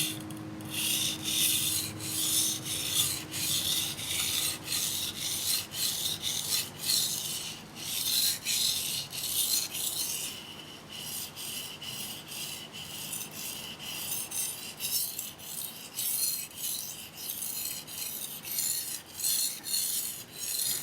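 A Mizuno knife is sharpened with repeated rasping strokes across a stone, a steady rhythmic back-and-forth scraping heard close and alone.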